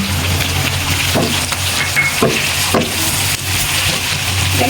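Onion, ginger, cardamom and cinnamon fry in a hot pan, a steady dense sizzle running throughout with a few soft scraping stir strokes cutting in at intervals.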